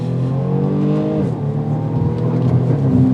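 A 2021 BMW M235i Gran Coupe with a ZF automatic accelerates from a stop, its engine note climbing steadily in pitch then shifting, loud and close throughout with no talking.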